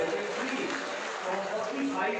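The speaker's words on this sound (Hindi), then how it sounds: "आप सब जोरदार तालियां बजाएं" Applause from an audience at a district administration event in a hall in Firozabad marking National Voters' Day, a dense, steady clatter of hands running throughout, with voices mixed in.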